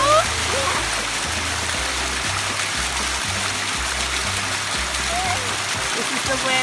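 Waterfall splashing on a hiking trail in the North Etiwanda Preserve, a steady close rush of falling water that continues throughout, with a voice singing over it.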